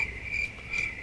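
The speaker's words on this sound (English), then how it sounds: "Crickets." Crickets chirp steadily at night, a high, shrill pulsing trill that swells and fades in a regular rhythm, alone with no voices.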